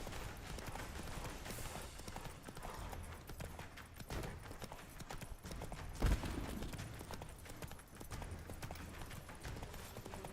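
Hoofbeats from Roach, Geralt's horse in The Witcher 3: Wild Hunt Next Gen, galloping in a fast clip-clop rhythm amid busy game sound, music and effects, with one sharp louder hit partway through.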